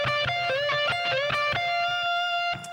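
An overdriven electric guitar plays a solo lick, repeating a quick bent figure six times. Sharp picked attacks give way to a sustained ringing note, played alone with no talking.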